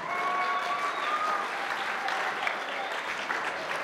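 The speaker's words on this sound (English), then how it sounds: "Let's give them both a very big round of applause" Wedding guests greet newlyweds Gaby and Morgan with loud, sustained applause as they make their entry, a full crowd clapping at an even level throughout, with faint voices mixed in.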